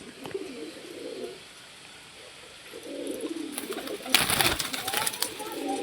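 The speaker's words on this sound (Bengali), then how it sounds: "সব ইয়াং পাট্টা জেনারেশনের পায়রা" Young pigeons in a large netted loft coo in soft repeated low phrases, several birds close by, with a burst of wing flapping and rustling near the end.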